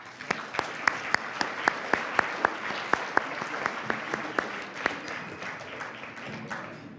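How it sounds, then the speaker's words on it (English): Applause at an academic society banquet, a dense crowd clapping steadily for about seven seconds with sharp individual claps standing out, then fading toward the end. "a round of applause."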